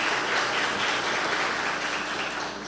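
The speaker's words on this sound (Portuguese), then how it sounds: "uma salva de palmas" Dense, steady applause from an audience at a formal solemn session honouring police in Caldas Novas, sounding close and continuous from start to finish with no voices over it.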